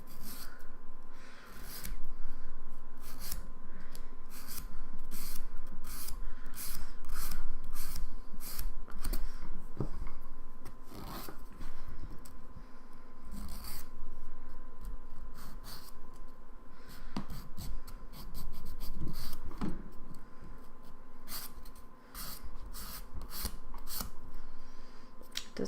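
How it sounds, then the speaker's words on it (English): Dip powder nails being buffed with a file or buffer, giving a steady close rasping rub with repeated short strokes throughout. "Let's use the magic of buffing to sort this baby out"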